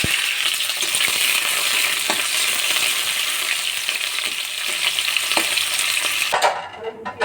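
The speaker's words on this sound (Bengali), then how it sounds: "ওই তেলে দিয়ে দেবো উচ্ছেটা" Bitter gourd dropped into hot oil, a loud, dense frying sizzle that hisses continuously at close range, with a few light stirring knocks, cutting off abruptly near the end; no one speaks.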